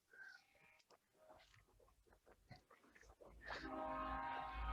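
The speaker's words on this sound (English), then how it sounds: "I'm sorry, there's trains." A train passes outside during an indoor panel discussion, its rumble building and swelling loud over the last second and a half beneath earlier scattered talk and room sounds.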